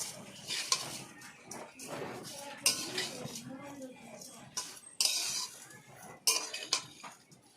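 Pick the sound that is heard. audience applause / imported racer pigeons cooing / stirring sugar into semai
stirring sugar into semai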